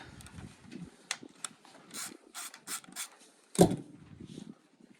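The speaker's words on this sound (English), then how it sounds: "you can use a ratchet with a 10mm socket" A ratchet with a 10mm socket works on a 2021 Honda CRF 450RX during suspension removal, giving short bursts of close metallic clicking. A sharper clank follows near the end, and no one speaks.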